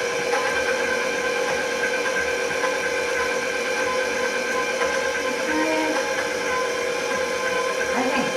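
An electric mixer on speed setting 2 runs with a continuous, even motor drone through pumpkin bread batter, steady from start to finish, with a voice faintly present beneath.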